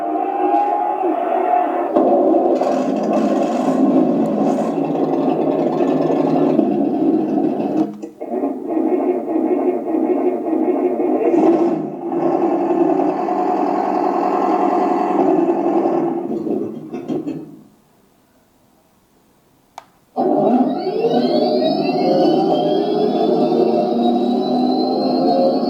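Another synthetic engine sound plays from the TK26 sound board of a 1:16 remote-control tank: a loud, throbbing rumble that changes character several times, cuts out briefly, then returns with rising revving whines.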